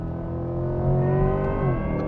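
A Chevrolet Corvette pulling hard in fourth gear just under 4,000 RPM at about 110 km/h, a steady droning engine note rising slightly, heard from inside the car with no talking.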